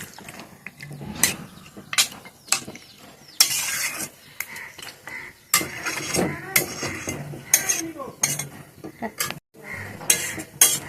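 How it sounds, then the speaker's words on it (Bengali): Mutton curry being stirred and scraped in a kadai, with repeated clinks and scrapes of a metal spoon against the pan in an irregular rhythm, close and fairly loud. "এখন শুধু খালি কষাবো, অনবরত কষাবো যতক্ষণ অবধি আমার সব কিছু খুব ভালো করে সিদ্ধ হচ্ছে না"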